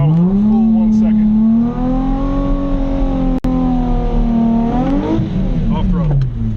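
Nissan 350Z engine during a drift lifting off throttle: a loud, close, steady engine tone holds, then falls in pitch as the throttle is released before climbing again, with a single sharp click midway.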